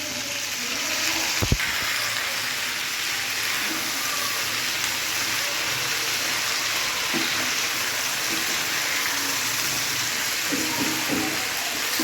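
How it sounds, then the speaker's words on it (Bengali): Mixed vegetables for shukto, including drumstick, green banana, carrot and long beans, fry with salt in a pan, giving a steady, even sizzling hiss throughout with a brief clatter near the start. "সবজিটা ভাজা হতে থাকুক"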